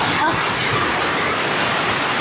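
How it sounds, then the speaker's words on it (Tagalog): Heavy rain suddenly pouring down outdoors, a dense, loud, steady roar of falling water filling the whole stretch without a break. "Sobrang lakas ng ulan."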